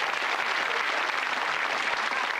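Studio audience applause on a British television game show, a dense, even wash of clapping held at steady loudness throughout with no voices over it.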